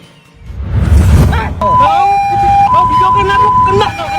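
A close, loud ambulance siren wails with a steady two-tone pattern over traffic rumble, while people talk nearby.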